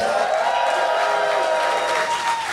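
A packed live comedy show audience at the PianoFight venue in San Francisco claps and cheers loudly, a dense, sustained wash of applause from the crowd filling the room.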